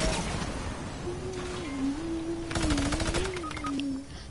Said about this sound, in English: I got minigun sprayed